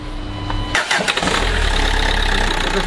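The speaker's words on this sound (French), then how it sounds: "On va mettre la voiture en route" A Renault Megane with a K9K diesel engine cranks briefly and catches, then settles into a loud, steady low diesel idle heard up close.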